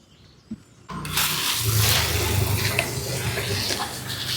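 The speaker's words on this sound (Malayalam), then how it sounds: "ഞാനത് സ്പ്രേ ചെയ്ത് കൊടുക്കാൻ പോണേ" A steady hiss of diluted liquid sprayed onto a bougainvillea's leaves starts abruptly and continues close by, after a short quiet stretch with a faint click.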